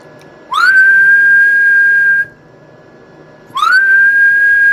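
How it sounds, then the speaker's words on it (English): A person whistles into a one-transistor Lin's Texas Star hot mod CB radio amplifier, giving two long, loud, steady whistle tones that slide up at the start, separated by a short gap. "let's give her a good whistle"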